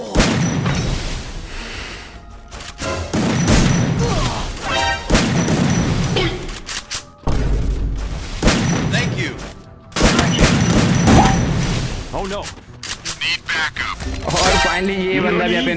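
Loud gunfire in the Free Fire battle-royale game: repeated bursts and heavy shots come in clusters separated by short gaps, with crashing impacts between volleys.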